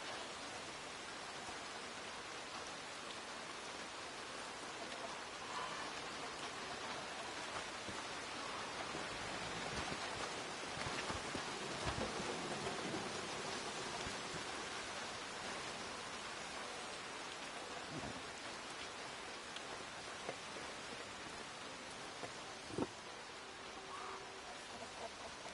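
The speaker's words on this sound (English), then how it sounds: "Miserable, this rain." Steady rain pours down in a PS4 video game, a constant broadband hiss with a few faint thumps and a brief sharp crack near the end, likely distant thunder.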